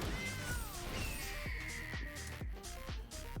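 A cat token in the digital card game Magic: The Gathering Arena gives a clear, drawn-out meow amid a bright, rhythmic run of game chimes and thumps.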